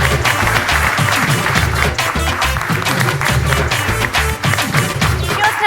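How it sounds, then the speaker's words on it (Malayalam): An audience at a comedy stage show applauds, a dense, loud burst of clapping that keeps going evenly for several seconds with no talking over it. "നല്ലൊരു കൈയടി"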